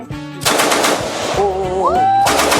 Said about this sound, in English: Right now it's Edison's turn for the machine gun.